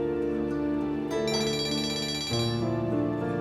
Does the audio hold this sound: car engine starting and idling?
no